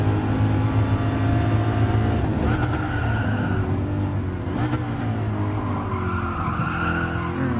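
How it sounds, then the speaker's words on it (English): A racing car engine in the video game Gran Turismo Sport revs and drones continuously with a thin supercharger whine riding above it, tires skidding through corners, loud and unbroken throughout. "small peaking whine of the supercharger."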